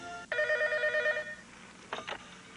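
A telephone rings in a Brazilian TV commercial, one loud sustained ring followed after a short pause by two brief bursts of a second ring, with no talk over it.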